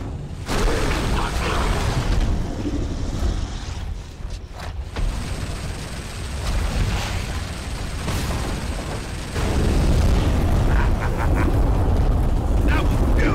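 Tanks blow up under fire in Gears of War, with heavy booming blasts and rumbling mechanical noise filling the scene while voices talk over the chaos.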